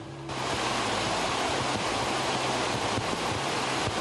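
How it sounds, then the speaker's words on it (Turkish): Floodwater collected on an Istanbul highway pours off a bridge into the underpass below like a waterfall, making a loud, steady roaring rush that fills the whole scene and never lets up, with no voices. "karayolu üzerinde biriken su köprüden alt geçide akınca ortaya şelaleyi aratmayan görüntüler çıktı"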